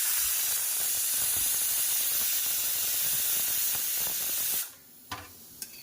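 A pressure cooker boiling papaya lets out a steady, strong hiss of escaping steam that cuts off abruptly, leaving quiet kitchen clatter and a couple of small knocks.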